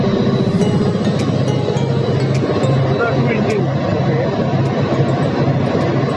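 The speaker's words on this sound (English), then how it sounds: "Now we are inside the engine room. It houses the 2 main engines that drive the ship." A cruise ship's two main engines run inside the engine room, producing a loud, unbroken mechanical drone with a dense, throbbing low end. A voice seems to speak beneath the din.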